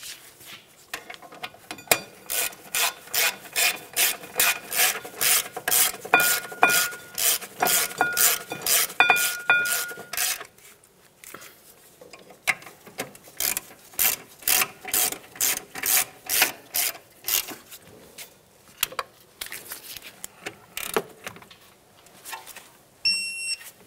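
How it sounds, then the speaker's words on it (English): On a 2009-2019 Ford Flex, a torque wrench tightens the rear brake caliper bracket bolts to 76 foot-pounds with repeated bursts of loud, close ratcheting clicks in steady strokes and short pauses between sets. "Now we'll snug these up and torque them to 76 foot-pounds."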